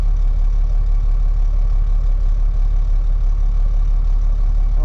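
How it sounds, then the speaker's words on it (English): An off-road haul truck idles steadily and close by while its dump bed is raised, a constant, even low engine drone with no throttle changes and no talking. "I'm gonna raise it all the way up and see what it looks like."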